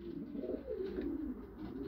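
Young late-bred pigeons in a loft coo steadily in overlapping low, rolling calls, close and continuous with no talking.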